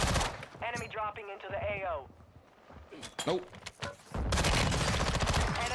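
Automatic gunfire from an AK74u in the Warzone video game bursts in sustained, loud rapid fire over the final seconds, after a stretch of in-game voice lines and chatter.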